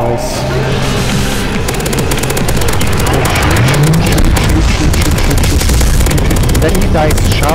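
Gunfire in Counter-Strike: Global Offensive on a zombie escape map: rapid, continuous automatic weapon fire from many players, loud and dense, with booms and game music underneath and a voice talking over it.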